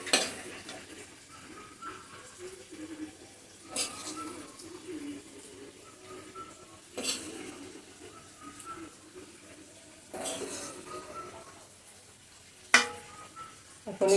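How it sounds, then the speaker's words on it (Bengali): Chicken pieces go into a pot for chicken dum biryani in a home kitchen, with stirring, clinking of utensils against the pot and a few louder scraping bursts, moderately close and without talk. "এখন বাকি মাংসটা দিয়ে দিচ্ছি।"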